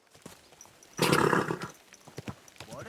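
A horse in the video game Kingdom Come Deliverance 2 gives a short, loud snort or whinny burst midway, with light hoof and tack sounds before and after, close by.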